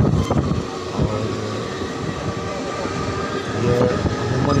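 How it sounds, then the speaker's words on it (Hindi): A freight train near Kalyan Junction rumbles past with continuous low clattering of wheels on rails, steady and fairly loud, with some wind noise and no talk. "यह अमूमन यहाँ पर मालगाड़ी कभी रुकती नहीं है।"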